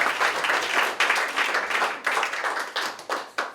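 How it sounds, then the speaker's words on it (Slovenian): Audience applauding at a centenary ceremony for the Ormož–Ljutomer–Murska Sobota railway line, dense sustained clapping from a sizable crowd filling the whole stretch, close and loud with slight swells. "Lahko je zaploskati, ja."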